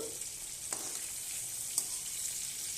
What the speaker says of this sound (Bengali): তো এটা আমি ভালো করে ভেজে নেব, হালকা করে, অত কড়া করব না।